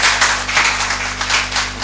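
A congregation at a Saturday church service claps in welcome, giving steady, dense applause from many hands for about two seconds, close and fairly loud.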